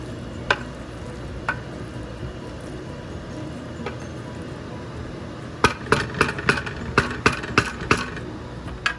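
A spatula turns paneer in masala in a frying pan, with a low sizzle throughout, a few isolated scrapes early on, then a burst of quick, close clinks and scrapes against the pan.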